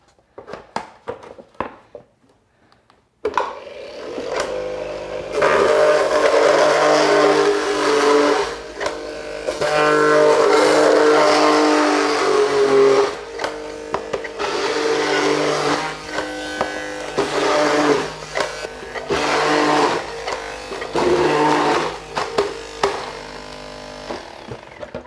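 A Goodnature Hummingbird Pro cold press juicer works through a roughly even mix of carrots and apples, giving a loud, sustained mechanical grinding and whirring that starts after a few faint knocks and runs steadily with fluctuating intensity.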